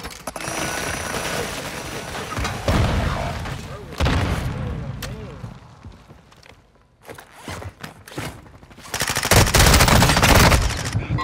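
Video game gunfire: bursts of machine-gun fire and single shots with booming impacts, loud and close, coming in uneven volleys with brief lulls between, while voices talk over the action.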